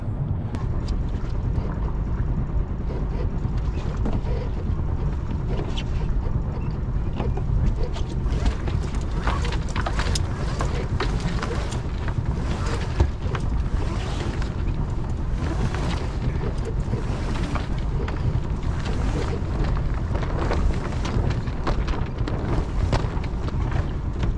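Strong, steady wind roars across the deck of a boat leaving port on a cold day, buffeting the microphone in a continuous low rumble with gusty swells and no pauses.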